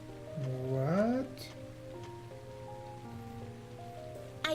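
Steady rain patters in the game Trails of Cold Steel, a soft, even wash of drops running under tonal music and character sounds for the whole stretch.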